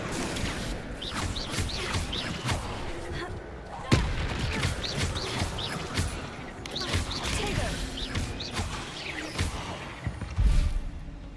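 Spell blasts and magical impacts from Hogwarts Legacy combat against a deadly great spider crackle continuously, with sharp bursts near four and ten and a half seconds over a dense, busy battle bed.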